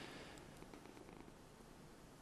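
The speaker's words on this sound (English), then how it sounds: "You can hear the cat purring." A steady, soft purring of a cat in New York City, continuous and close, with no talking.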